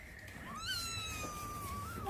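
Abandoned kittens meow in a thin, high, drawn-out cry, one wavering call that rises and holds close by over a faint rustling background.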